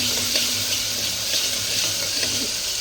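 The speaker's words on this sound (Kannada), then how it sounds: "ಮತ್ತು ಹಿಂಗೆ ಫ್ರೈ ಮಾಡೋಣ, ತಿರುಗಿಸ್ಕೊಳ್ಳೋಣ." Turmeric fries in a pan with a steady, close hissing sizzle, broken by faint scrapes as the mixture is stirred.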